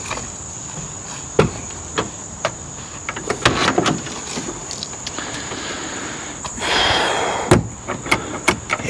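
The door of a 1973 Lincoln Continental is worked with several sharp knocks and clunks of metal, ending in a louder thud, against a steady outdoor chorus of crickets.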